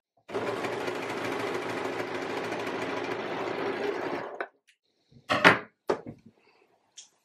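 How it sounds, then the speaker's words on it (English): A sewing machine stitches a seam on a reversible one-shoulder top, running in one steady mechanical whir for about four seconds, followed by a few sharp clunks and clicks. "then sew to the end of that seam"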